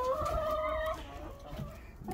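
A flock of 38 laying hens inside a chicken coop during a snowy spell, giving soft, low clucks and murmurs that stay faint and close, with no talking over them.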